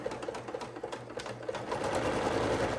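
A sewing machine runs steadily on its longest stitch setting, stitching across an apron with a dense, rapid mechanical chatter that grows slightly louder and busier toward the end, close up with no talk.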